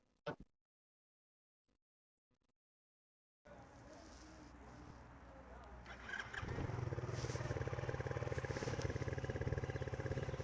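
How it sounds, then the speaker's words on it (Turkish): Skyteam T-Rex 125 motorcycle engine idling close by after a few faint clicks and near-silence, then revving up into a loud, steady throaty exhaust rumble that holds to the end. "Şimdi size bir egzozu dinleteyim."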